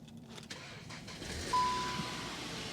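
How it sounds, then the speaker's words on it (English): A low-mileage Skoda Octavia vRS with 44,000 miles idles with a faint, steady engine hum, with a light thump early on and a slight swell midway. "the engine runs fine."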